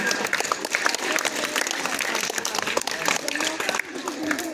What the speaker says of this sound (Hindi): ताली बजाइए जोरदार